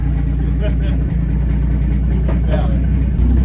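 Loud, rumbling engine of a Dodge WC-51 4x4 military truck idling with a rough open exhaust and slight revving, up close, while people talk over it.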